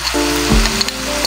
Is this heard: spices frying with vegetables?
yes